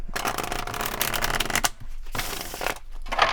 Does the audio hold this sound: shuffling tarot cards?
yes